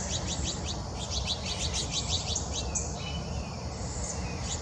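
Quick bright chirps from a flock of house finches gathered at a backyard feeder on a quiet morning, repeated tweets in bursts over a soft steady outdoor hiss, moderately near and fairly faint.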